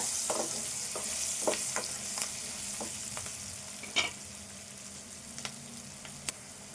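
Green chillies are stirred in a hot frying pan for an egg and cluster bean curry, with a steady close sizzle and irregular scrapes and clinks of the spoon against the pan, and no speech.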